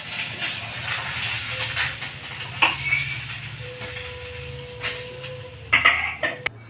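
Parshe fish frying in hot oil makes a steady, fizzy sizzle that runs the whole way through, with a few sharper pops and clinks near the end.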